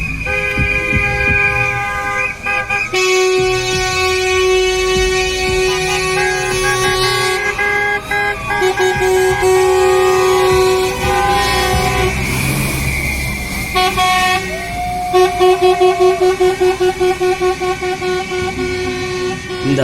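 Car and truck horns honk loudly and repeatedly from vehicles in a street celebration for polytechnic students finishing their exams, with sustained blasts, overlapping tones and a rapid burst of short toots near the end.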